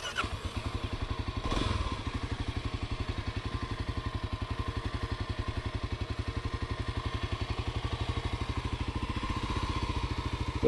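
A dirt bike engine runs at a steady idle close by, its rapid chugging pulses ticking evenly throughout, with a brief thump near the start.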